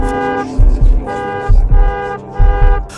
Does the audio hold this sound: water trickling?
no